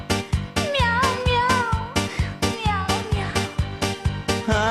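Repeated cat meows ride over a steady, punchy rhythmic beat in a song, each meow bending up and down in pitch between the thumping hits.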